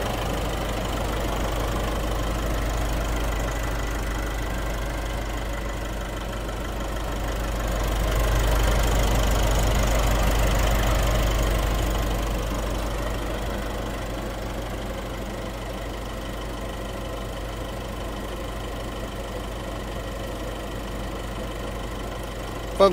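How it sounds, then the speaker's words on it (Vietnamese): A 2016 Nissan Navara pickup with an automatic gearbox, four-wheel drive and a diesel engine idles steadily with a low, even rumble. The engine note swells slightly for a few seconds midway and then settles, with no talking. "Và đây là tiếng động cơ đang hoạt động đây."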